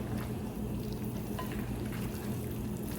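Rotisserie chicken, broccoli and pasta being tossed together in a pan, with a soft, steady sizzle and faint stirring scrapes, low in level and without speech.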